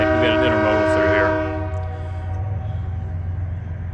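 A Union Pacific freight train at night near a siding sounds a loud, sustained multi-tone horn up close, which cuts off after about a second and a half, leaving a continuous low rail rumble.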